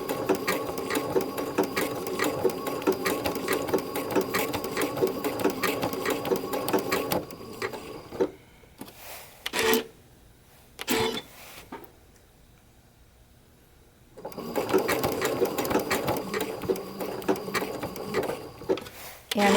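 A sewing machine stitches in fast rhythmic bursts up close, then stops with the presser foot dropped and a few clicks in a quiet gap before it starts stitching again.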